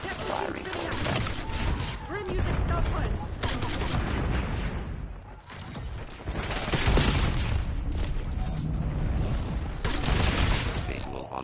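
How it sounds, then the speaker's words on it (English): A War Machine grenade launcher fires in Black Ops 7, its loud, dense blasts and booms piling up almost without a break amid heavy gunfire and battle noise, with game voices underneath. "Destruction of field property is strictly prohibited. War machine firing full effect."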